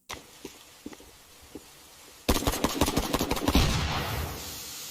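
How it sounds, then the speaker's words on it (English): Scattered single shots crack, then a sudden loud burst of rapid gunfire erupts and trails off into a rumbling echo. The firing sounds like a video game. "Gunfire."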